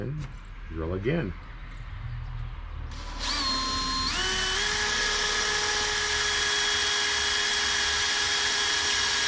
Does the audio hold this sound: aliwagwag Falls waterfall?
no